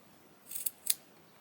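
Scissors cut fabric for cross-stitch finishing with two quick, close snips in an otherwise quiet room.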